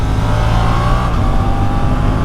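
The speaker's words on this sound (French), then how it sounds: "Bruit de moteur qui est très sympa." A Suzuki GSX-8S motorcycle engine pulls hard under acceleration, a loud, steady, close-up drone that holds at an even level throughout with no speech.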